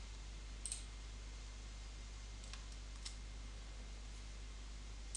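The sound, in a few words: computer mouse clicks while editing a table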